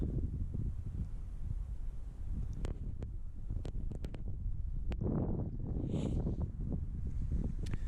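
Wind blows on a beach, buffeting the microphone as a constant low roaring rumble, broken by a few sharp clicks and a brief hiss, with no talking.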